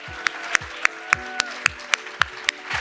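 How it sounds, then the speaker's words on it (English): Applause at an International Women's Day celebration comes as sharp, evenly spaced claps, about three or four per second, fairly close and moderately loud, with a soft room murmur underneath. "Can we give them one more round of applause?"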